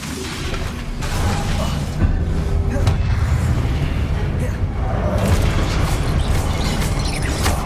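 Confringo fire spell blasts in Hogwarts Legacy combat, dense booming explosions and pops layered over a constant loud battle roar, with spoken spell incantations throughout.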